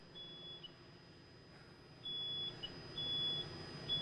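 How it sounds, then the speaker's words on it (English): A smoke detector shrills during a furniture fire test comparing modern and legacy furniture, giving three high, thin beeps, one short and two sustained, over a steady background roar of fire and room noise. "The smoke detector is already going off on the right-hand side with the modern furniture"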